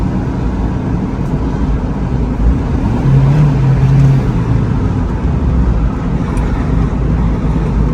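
A Geo truck engine runs steadily at close range with a low, constant drone while its faulty transmission fails to shift up, the pitch holding without change.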